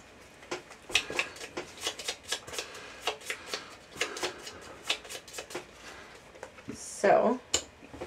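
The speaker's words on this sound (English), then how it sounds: "I have to shuffle the scout deck" A deck of Gloomhaven board game cards is shuffled in repeated quick riffles and soft slaps, close and crisp, with a longer, louder rustle near the end and low voices faintly behind.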